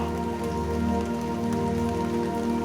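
Steady rainfall patters continuously on surfaces, a soft even wash of drops with a faint tonal hum beneath it, calm and unbroken throughout.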